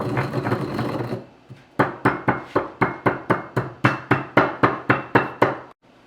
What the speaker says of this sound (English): Then we're going to grind this because it's big.